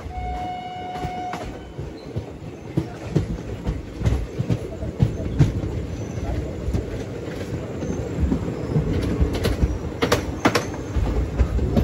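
Train pulling into a railway station where a locomotive reversal takes place, with a steady low rolling rumble and faint wheel clatter throughout and a brief tonal horn-like whine near the start.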